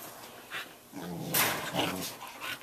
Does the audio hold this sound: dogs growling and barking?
yes